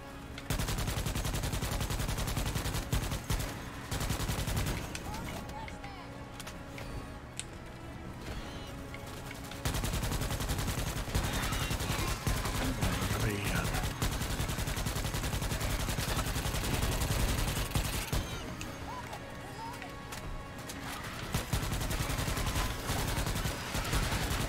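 Sustained rapid gunfire from a video game battle rattles almost without pause, dense bursts of shots laying down covering fire, with a few short lulls between volleys.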